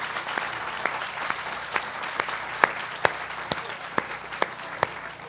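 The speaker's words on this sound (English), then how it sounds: "I think we all owe Mayor Daley a round of applause here for his great leadership." An audience at a groundbreaking ceremony for a Kroc Center in Illinois applauds steadily for the mayor, with dense clapping and a few sharper, louder claps standing out.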